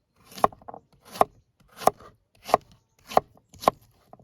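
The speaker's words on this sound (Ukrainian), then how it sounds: "І ріже він добре. Редиска." A Ruike P852 folding knife slices through a radish in six crisp, evenly spaced cuts, each a sharp crunchy snap close to the mic with short quiet gaps between.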